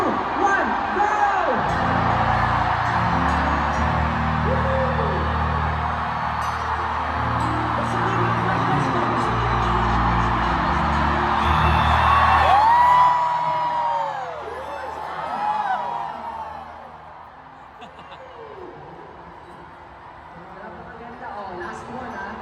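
A large concert crowd shouting together at a flashlight-lit show, a loud mass of many voices yelling and cheering at once that swells, then tapers off into scattered whoops and calls.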